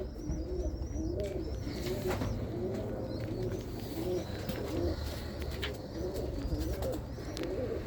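Roller pigeons coo repeatedly in soft, rolling calls, with a few higher chirps from other birds scattered over a steady background hum.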